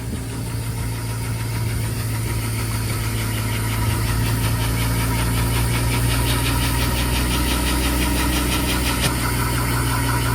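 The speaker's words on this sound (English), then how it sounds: "We started the pump." A pump engine at a groundworks site runs in a loud, steady, continuous drone with a knocking vibration, clearing water from under concrete. No one speaks.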